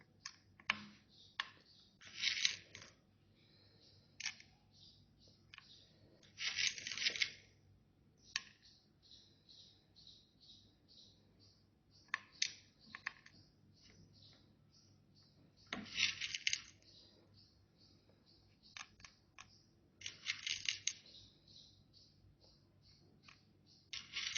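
Small sesame-jaggery sweets (tilgul) drop into chocolate boxes, making clusters of light, quiet clicks and ticks spread out over a hushed background.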